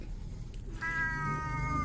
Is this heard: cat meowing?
yes